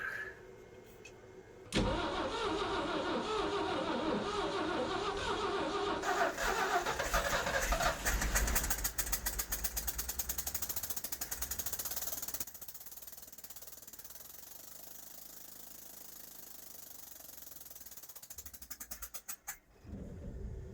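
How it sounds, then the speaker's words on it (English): An old gasoline engine with a freshly filled carburetor float bowl cranks, catches and roars loudly, running rough with sputtering pulses before stumbling and cutting out near the end. "We filled the float bowl full of gasoline, and now it should run for 10-15 seconds of glorious life."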